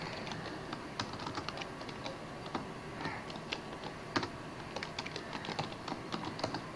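Typing on a computer keyboard while entering Python code, a steady run of light, quick key clicks with irregular rhythm over a soft background hiss, close by and fairly quiet.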